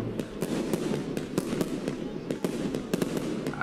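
A fireworks cake fires a rapid, continuous barrage of loud crackling bangs, dense overlapping explosions close by with no pause throughout.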